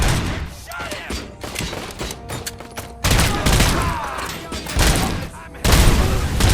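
Gunfire in the RoboCop: Rogue City video game, dense bursts of rapid shots and heavy thuds, loud and close, with shouted voices mixed in and louder volleys near the end.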